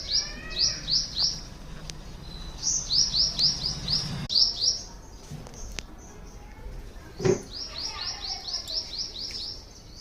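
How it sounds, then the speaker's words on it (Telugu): Small birds sing in a home garden beside a large amla tree, bursts of quick bright chirps repeating in clusters, fairly close, with a sharp knock or two and faint background noise between phrases. "మా గార్డెన్లో పిట్టలు సంగీతం సంగీతం పాడుతున్నాయి"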